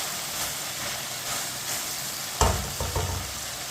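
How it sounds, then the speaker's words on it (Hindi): Ginger and garlic fry in a pan for Shinwari karahi, a steady hissing sizzle, then a sharp spoon knock and a couple of quick stirring scrapes near the end. "दो मिनट के लिए मैंने चम्मच चलाते हुए अदरक और लहसुन को पका लिया है।"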